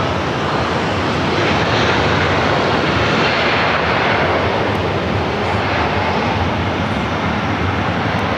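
An Emirates airliner's jet engines roar at LAX during reverse operations in challenging weather, a loud, steady broadband rumble that holds throughout, close and without any talk.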